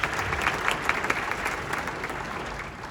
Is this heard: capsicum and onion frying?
no